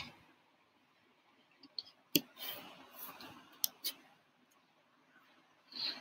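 Faint, sparse computer mouse clicks, a few sharp single taps spread across a quiet moment while setting up a Shopify store theme, with no talking.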